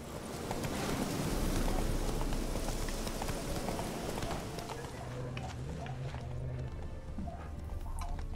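Hooves of Roach the horse in the video game Witcher 3, a quick clip-clop gait close by that runs steadily over rumbling ambience and softens toward the end.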